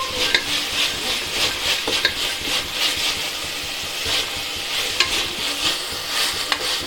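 Onions and chickpeas sauté in a pan for tomato rice, a steady sizzle with repeated scraping and stirring strokes from a spatula, close and continuous with no talking.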